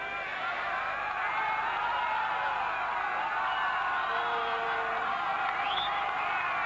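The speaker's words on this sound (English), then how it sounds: "Crowd getting behind them" A football crowd at a 1991 Copa América match between Argentina and Paraguay in Chile, a steady, broad roar of cheering and chanting from a big stadium audience, heard from a distance and sustained throughout.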